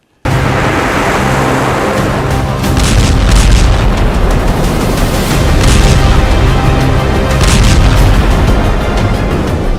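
Military strikes in Lebanon produce a loud, sustained roar of explosions: a heavy, continuous rumble that rises and swells for about ten seconds, with no voices.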